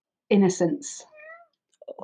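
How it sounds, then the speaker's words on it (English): A pet cat meows in short pitched calls close by, following a person's speech, with a brief voice returning at the end. "that was my cat answering"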